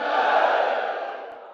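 A large crowd at a political rally bellows a slogan in unison in response to a leader's call, a loud sustained roar that slowly fades over about a second and a half.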